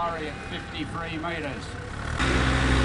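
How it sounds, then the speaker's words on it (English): An Australian-built Chamberlain 9G tractor with a Perkins engine labours as it pulls a heavy sled with wheel spin, a steady mid engine drone that grows louder near the end, under a commentator's voice. "you see the tractor starting to spin now, still struggling under the weight of that sled is this Australian built Chamberlain 9G powered by the Perkins"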